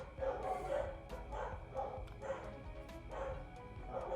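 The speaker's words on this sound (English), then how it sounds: "stop barking!" A dog barks repeatedly in a steady rhythm of short yips, moderately close, with no talking.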